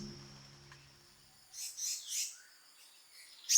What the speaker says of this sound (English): Asian paradise flycatcher male.